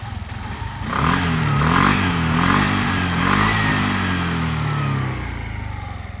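A Suzuki Address V 125 S scooter engine runs close and loud, revving up in a few rising and falling surges before settling back to a steady drone.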